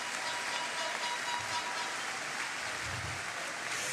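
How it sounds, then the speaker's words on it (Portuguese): An audience claps steadily at a church men's congress, a dense, even wash of applause filling the hall throughout. "Se é para Jesus, aplauda mais forte."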